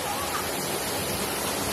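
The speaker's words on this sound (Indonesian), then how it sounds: "sekarang sudah sampai di air terjun" Broad, steady rush of falling water from a waterfall in a quiet German village, a continuous noisy wash filling the whole clip at moderate level with no distinct events.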